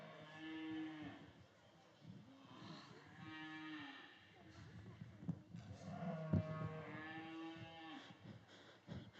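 A beef cow at a county youth livestock show calls out for her calf in several long, drawn-out moos, some low and some rising. The calls are fairly close, with faint background noise between them.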